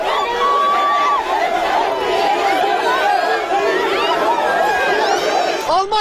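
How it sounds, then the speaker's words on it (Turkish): A large crowd of Turkish expatriates in Germany cheers and chants to welcome Prime Minister Erdoğan, a loud, dense roar of shouting voices and babble filling the whole stretch. "Erdoğan'ı Almanya'nın dört bir yanından gelen gurbetçiler tezahüratlarla karşıladı"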